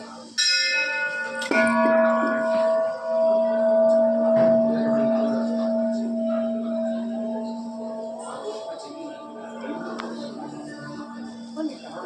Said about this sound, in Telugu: ఇక్కడ ఓం అని పలికే శబ్దం ఉంటుంది గంట చూడండి